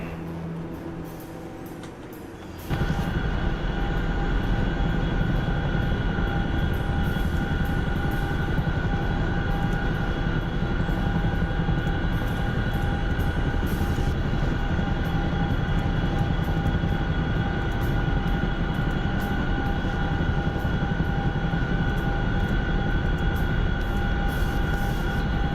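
Interior of a Chinook helicopter in a video game, a constant loud rotor and engine drone that starts abruptly and holds steady throughout.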